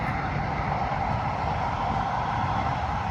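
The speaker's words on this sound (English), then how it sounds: "sorry, the train." A train passes nearby, making a constant broad roar and rumble that holds at an even level throughout, with no speech over it.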